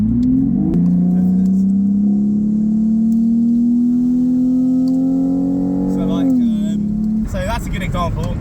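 BMW Z4 E85 3.0i roadster with the M54 inline-six pulling hard on a Belgian back road, a steady rising engine drone through a long gear, a brief dip at a shift, then road noise as a voice starts talking.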